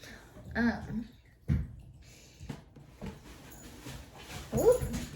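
A dog whimpers and yips in short bursts, close by, with splashy bathtub-like noises between the cries and a person talking over it.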